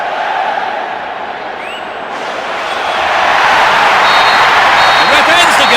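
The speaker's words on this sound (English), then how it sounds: "The ref ends the game, and a huge roar from the crowd." Stadium crowd in a football video game roars at the final whistle, a broad swelling wash of noise that grows louder and fuller toward the end, with commentary voice over it.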